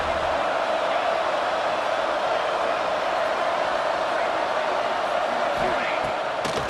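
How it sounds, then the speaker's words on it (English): Steady crowd roar from a college football video game (EA College Football 26, Miami vs Arizona State playoff) fills the whole stretch, loud and continuous, with a sports commentator talking over it and a few faint thumps near the end. "Listen to the crowd energy here in the early going."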